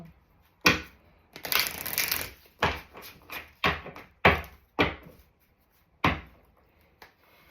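Tarot cards are shuffled in a series of sharp, close riffling bursts, about eight quick flutters and snaps separated by short pauses, in a quiet room with no voices.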